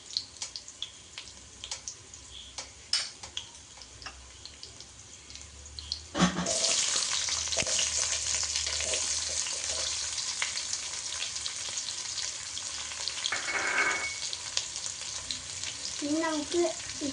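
Onions hit a hot pan for a mushroom dish and break into a steady, fairly loud sizzle partway through, after quieter kitchen clatter, with a faint voice in the background.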